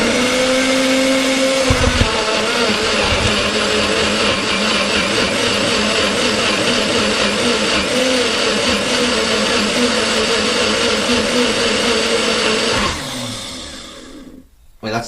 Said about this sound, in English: So let's just blend this up a second,